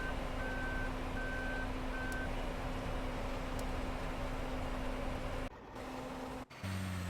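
Truck reversing alarm in Farming Simulator 2013, a steady run of evenly spaced electronic beeps over a constant engine drone, cutting out briefly near the end.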